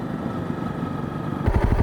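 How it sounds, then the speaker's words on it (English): Motorcycle riding up mountain roads in Italy, a steady engine drone throughout that grows louder and more throaty in the final half second, with a rhythmic pulsing as the bike pulls harder. "I'm tired just riding my motorcycle up these roads."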